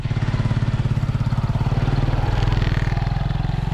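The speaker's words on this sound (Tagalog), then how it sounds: "Oh, may motor sa likod." Motorcycle engine running on a trail, a steady fast rhythmic putter that stays loud and close throughout, swelling slightly toward the middle as it passes.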